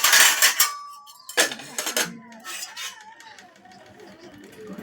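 Cutlery and dishes clink as a home-cooked Bengali meal of rice, fish cooked with potato and eggplant, coriander and tomato is served, with a few sharp clinks up front before quieter clatter under soft talk.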